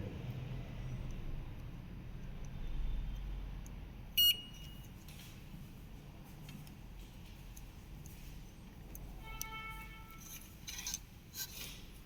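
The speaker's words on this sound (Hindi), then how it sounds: "दोनों तरफ जो बीप की आवाज़ देगा वही कंपोनेंट शॉर्ट है।" A multimeter on a mobile phone circuit board beeps to flag a shorted component. One sharp beep sounds early, and a cluster of tonal beeps follows later, all fairly faint over a low steady background hum.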